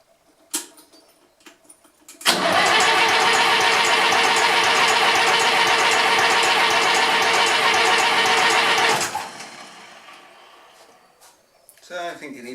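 A Massey Ferguson 35 (835) tractor with a Standard 23C diesel engine cranks and runs loudly and steadily for several seconds, then cuts out and dies away, with brief clicks and handling noises before and after.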